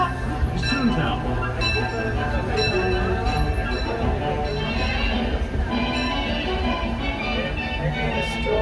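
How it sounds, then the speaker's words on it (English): Disneyland Railroad steam train pulled by the C.K. Holliday locomotive on its excursion run, with steady rumbling wheels and track noise, clinks and a ringing bell under loud ongoing background talk. "Please remain seated until the train comes to a full and complete stop"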